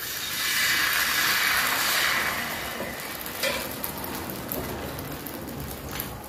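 Bhagar (barnyard millet) batter sizzles loudly on a hot pan as it is poured, a steady frying hiss that swells in the first seconds and then settles, with a few small clinks.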